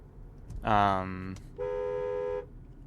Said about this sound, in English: I just wanted to honk